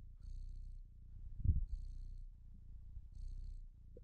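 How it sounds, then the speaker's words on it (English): A cat purrs in the video game Stray as it loads in, a soft low rumbling purr in slow rhythmic breaths, close and steady with no talk. "Oh, it purrs when you load in."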